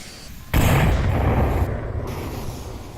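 A thrown grenade detonates in the VR shooter Onward, one sudden loud blast after a brief quiet lead-in, then a long rumbling decay, close by and with no talking.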